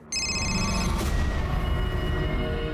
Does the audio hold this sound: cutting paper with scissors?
no